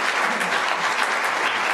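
Audience applause welcoming Judge Jim Spears to a Cherokee history presentation on the Goingsnake Massacre, a dense steady clapping throughout, fairly close and unbroken.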